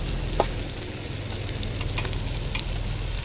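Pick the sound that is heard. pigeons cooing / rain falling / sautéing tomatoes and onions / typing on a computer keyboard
sautéing tomatoes and onions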